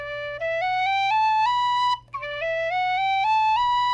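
A tin whistle plays two rising runs of clear, steady notes, stepping up through the low register into the higher octave, with a brief break between the runs. The playing is close and loud, with no voice.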